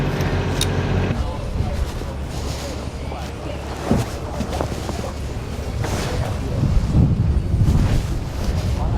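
Strong wind blows at sea beside a catamaran off the Balearic Islands, buffeting the microphone in rough gusts over the lapping of water, while voices speak throughout.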